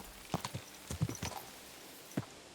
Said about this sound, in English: Just tap it to spur the horse and then speed up.